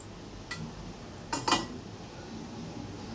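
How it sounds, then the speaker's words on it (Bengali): A metal pot lid set onto a cooking pan while a tomato or coriander chutney is cooked, a few brief clinks close by, with a louder double clatter as the lid settles, in a quiet kitchen. "এবার এটাকে ঢাকা দিয়ে দেবো।"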